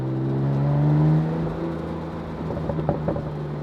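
A Porsche 991.2 Carrera Cabriolet engine hums steadily, swelling briefly before settling, then a few sharp crackles and pops near the end.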